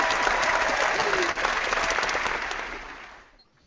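Brief, dense applause from a small group, steady and fairly close, tapering off into quiet within a few seconds.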